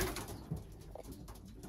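Racing pigeons coo softly inside a second-round loft at the start of old bird season, low murmuring calls rising and falling continuously over a faint background hum, with no talking.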